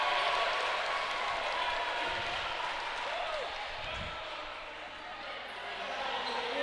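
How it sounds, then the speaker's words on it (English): A crowd cheers in a gym during a women's university basketball game, STU Tommies against MSVU, giving a steady roar of voices with a thud from the court partway through and a commentator talking over it. "Tommy Crowd has come to life behind this team now"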